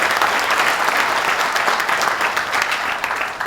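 Steady audience applause at a business council presentation in Bolton Landing, dense and even throughout, with no voices standing out.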